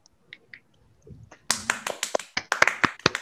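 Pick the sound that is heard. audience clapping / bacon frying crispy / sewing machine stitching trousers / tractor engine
audience clapping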